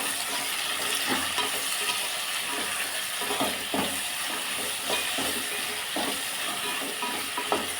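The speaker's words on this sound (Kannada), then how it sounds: "ಇದನ್ನು ನೀಟಾಗಿ ಮಿಕ್ಸ್ ಮಾಡ್ಕೊಳ್ಳೋಣ ಚೆನ್ನಾಗಿ ಫ್ರೈ ಆಗಬೇಕು ಎಣ್ಣೆಯಲ್ಲಿ" Eggplant frying in oil in a pan makes a steady hiss and sizzle while a spatula stirs it, with repeated scraping and clinking strokes every second or so, close up and without talk.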